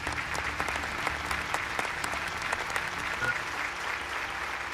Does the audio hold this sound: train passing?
no